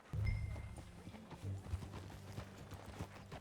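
Rhythmic clip-clop of horse hooves trotting close by in the video game Red Dead Redemption, steady and fairly loud, with a low game soundtrack rumbling underneath.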